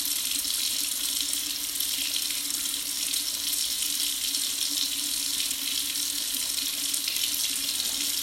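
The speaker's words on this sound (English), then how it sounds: "Okay, then you just rinse it off." A bathroom tap runs steadily while a skincare product is rinsed off the face, making a continuous, fairly loud hiss of flowing water throughout with no pauses.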